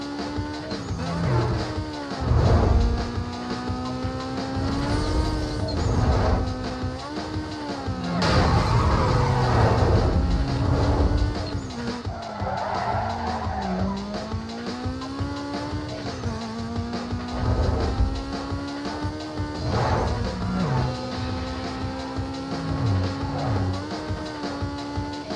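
Punto in Need for Speed Most Wanted Redux racing, its turbocharged engine revving loud and steady with rising and falling pitch, turbo whistle over the drone, occasional tire squeal, continuous and close.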